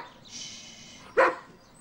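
A dog gives a single short, sharp bark after a faint whimpering whine, close and fairly loud in a quiet indoor room.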